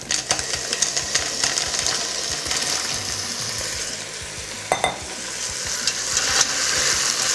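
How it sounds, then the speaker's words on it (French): Bouchot mussels sizzle loudly in a hot pan while being stirred, a dense constant frying hiss broken by occasional scraping knocks of the spoon, close up and without talk. "Je mélange bien."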